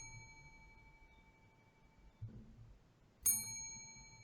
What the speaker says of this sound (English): hit that bell